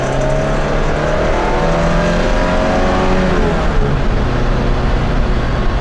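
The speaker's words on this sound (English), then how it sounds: "Definitely a Tii, the way it revs." A 1972 BMW 2002tii engine revs eagerly while driving, loud and close, with the pitch climbing and dropping through the gears over constant road noise.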